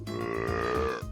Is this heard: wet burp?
yes